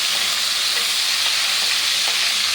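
Chicken pieces fry in hot oil with a loud, dense, continuous sizzle, close up and steady throughout with faint stirring clicks.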